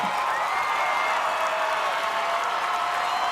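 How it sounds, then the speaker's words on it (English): A large crowd roars and cheers continuously at an American Ninja Warrior finals course at Venice Beach, a dense, steady wash of noise from start to finish. "And this crowd is losing their minds."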